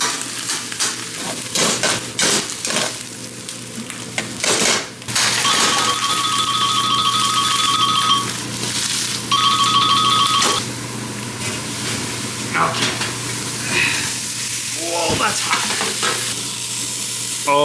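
Mushrooms sizzle loudly in a hot pan beside a steak, a steady fry with stirring, scraping utensil clatter and two stretches of high electronic beeping midway.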